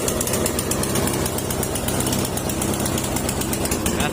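A Snapper lawn mower engine with a misfire and hard-starting fault runs loud and close, a steady rapid rattling drone that continues without a break.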